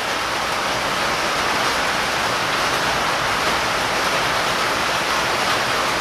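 Heavy rain pours down outdoors in a dense, steady hiss that holds level and loud throughout, with no voices or other sounds rising above it.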